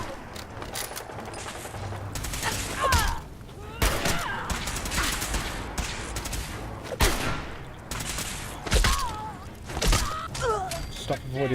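Rifle fire in the game Fallout 4, a close-range firefight: sharp shots ring out at irregular intervals, some in quick bursts, over a steady bed of combat noise with clanks and grunting.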